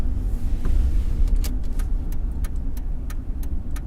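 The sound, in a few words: car driving on road, heard from inside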